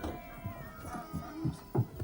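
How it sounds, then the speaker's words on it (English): Cats meowing in the 1992 horror movie Ghostwatch: several drawn-out, eerie meows and wails over a low hum, moderately loud, without talk. "Hearing shitloads of cats around your house."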